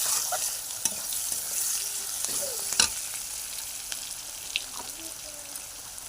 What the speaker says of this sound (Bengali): এবারে আলু ভাজা হচ্ছে।